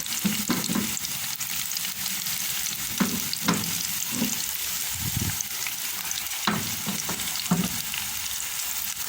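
Garlic and turmeric frying in coconut oil over high heat for a Trinidadian potato and chickpea curry, a steady close sizzle broken by bursts of scraping and stirring in the pan.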